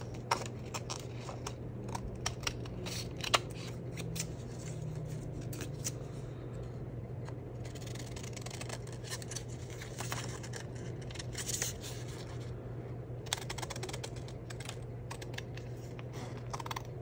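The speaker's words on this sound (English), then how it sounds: "All right, scissors." Scissors cut strips of paper for a collage in a quiet room, making faint, scattered snips and small rustles spread unevenly over the stretch.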